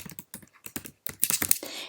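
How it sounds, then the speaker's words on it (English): A short burst of quick, close keystrokes on a computer keyboard while a username is entered, with uneven clicks that grow busier toward the end. "I want you to type in your username into the username box"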